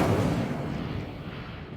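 Fiery Incendio spell burst in Hogwarts Legacy on PS5: a single booming explosion-like blast that starts loud and decays into a rumbling fade over nearly two seconds.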